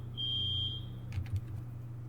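A base alarm in the video game Rust sounds as a single steady high electronic tone lasting about half a second, fairly clear over low hum, followed by a few soft knocks.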